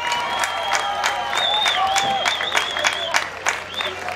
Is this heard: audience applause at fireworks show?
yes